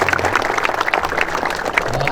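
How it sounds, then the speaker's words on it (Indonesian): Audience clapping for a group of military-school students in a classroom setting, a steady, dense patter of hands over about two seconds with some voices mixed in. "Tepuk tangan ya."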